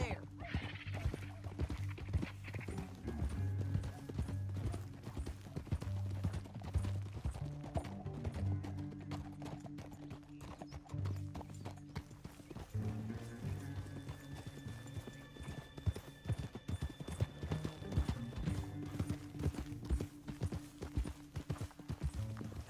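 Fast, steady hoofbeats gallop without pause in the video game Red Dead Redemption 2, a horse whinnies, and a low droning background hums underneath.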